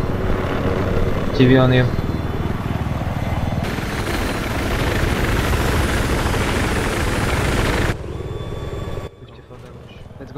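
Helicopter rotor and engine drone in the Battlefield video game on the Caspian Border map, a steady loud whir under a short spoken phrase, with the sound cutting down abruptly near the end.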